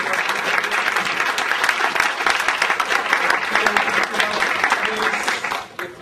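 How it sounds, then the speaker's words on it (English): Warm, steady applause from a conference audience for two speakers, dense and continuous throughout before dropping off at the close. "I'd like you to please give a warm applause to both of them."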